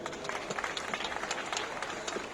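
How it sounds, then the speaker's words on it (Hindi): Audience applause at the opening ceremony of the first All India Fire Service Sports Competition, a dense, steady crowd clapping that carries on throughout at moderate loudness. "उनके लिए एक बार तालियां बजाएं।"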